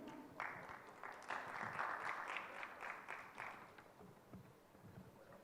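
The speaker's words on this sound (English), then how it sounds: "With big round of applause, ladies and gentlemen." A round of applause from a crowd at a business panel discussion, steady clapping that swells in the middle and then gradually thins out, fairly faint and distant.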